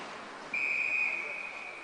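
A referee's whistle blows one long, steady blast during a Des Moines Capitals ice hockey game, cutting through the rink's background noise.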